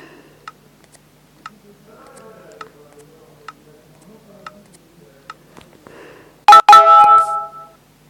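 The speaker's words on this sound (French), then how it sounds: "Excusez-moi pour les notifications." A phone's notification chimes sound during a Minecraft Pocket Edition survival session: faint ticking clicks at first, then a loud burst of bright, stacked electronic tones near the end.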